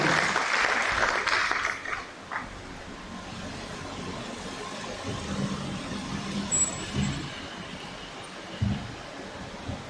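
An audience claps in welcome at a military padre hour gathering, a broad steady patter of hands that is loudest at first and then settles into a lower rumbling wash.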